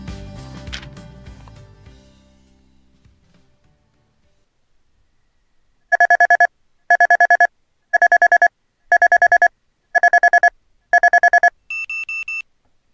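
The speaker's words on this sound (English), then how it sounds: "This alarm app seems to be intentionally complicated just so by the time you've turned it off, you're awake." Alarm app in the game Kindred Spirits on the Roof goes off after a quiet stretch: six loud, evenly spaced bursts of rapid electronic beeping, then a final higher, steadier tone, with no talk over it.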